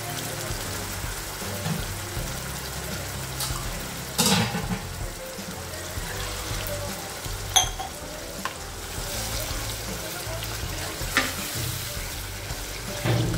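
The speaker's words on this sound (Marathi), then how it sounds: "आणि हे अगदी आपल्याला तेल सुटेपर्यंत परतायचंय." Masala frying in hot oil until the oil separates, a continuous close sizzle with periodic stirring scrapes and a few sharp clinks of a spoon against the pan.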